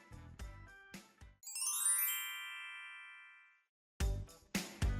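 A phone ringtone sounds once as a bright, cascading chime that rings out for about two seconds and fades, between short bursts of other clatter.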